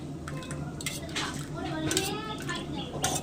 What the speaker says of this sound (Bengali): এই যে এখন দই পেতে দিচ্ছি